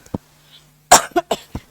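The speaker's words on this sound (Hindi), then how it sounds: "जब भी एक्स्ट्रा बोलो खांसी आती है।" A man coughs during a Company Law lecture, one short cough followed by a close, loud run of three or four harsh coughs.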